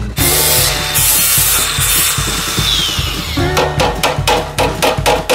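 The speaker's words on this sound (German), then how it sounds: "Als erstes fange ich jetzt gerade an und schleife mal die ganzen Unebenheiten ab" Uneven spots and old paint being sanded down on a metal part, a close, loud rasping that repeats in quick, regular back-and-forth strokes with no talking.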